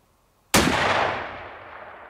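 A single sharp, loud rifle shot at an outdoor range cracks out of near silence and rolls away in a long fading echo.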